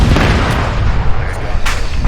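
Gunfire in a squad-based space video game, a dense, continuous booming barrage with a few sharper bursts, loud and close throughout, with talk mixed in beneath.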